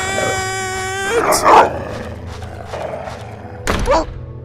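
A hostile dog attacks in the horror game Darkwood, giving two sharp snarling bursts over a droning, tonal game background, close and aggressive.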